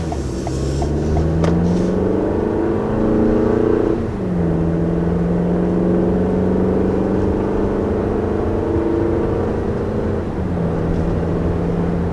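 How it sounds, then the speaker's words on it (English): A 2020 Toyota RAV4 engine accelerating under hard throttle from the cabin, a loud, steady drone rising in pitch, dropping at a gear change near four seconds, climbing again, then shifting once more. "when you push the accelerator, it's almost shocking how loud it is"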